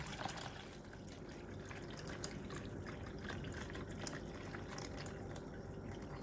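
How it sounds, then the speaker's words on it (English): Water pouring steadily into a Christmas ice wreath mold, a continuous close trickling and splashing that holds at an even level throughout, with no talking. "I'm going to go ahead and I'm going to pour some water in here"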